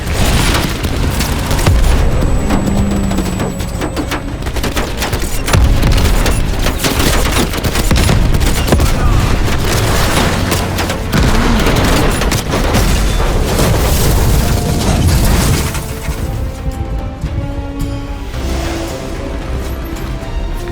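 Dense, sustained gunfire and heavy booming explosions in a Call of Duty Black Ops Cold War firefight on PS5, loud and continuous throughout with rapid automatic bursts layered over deep blasts.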